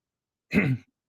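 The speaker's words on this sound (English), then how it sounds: "I think we got a cough coming on" A single short, rough throat clearing with a slight cough quality, close and fairly loud, lasting about a third of a second, then silence.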